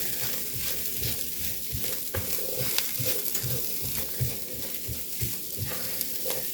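Jicama home fries sizzle in a pan while being stirred, with a constant crackling fry and rhythmic scraping pushes of a utensil throughout, close and fairly loud.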